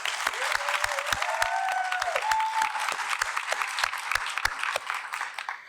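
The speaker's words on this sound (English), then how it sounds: "Let's give her a round of applause." A crowd at a school board meeting gives sustained applause for an Army veteran, dense clapping filling the room with a few sharper individual claps and faint cheering tones over it.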